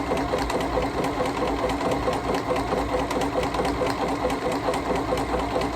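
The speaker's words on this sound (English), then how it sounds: "So it's now going to complete the buttonhole without having to do anything else." Bernina Series 3 sewing machine stitching a buttonhole automatically, a fast steady mechanical chatter of needle strokes running continuously at close range with no voices.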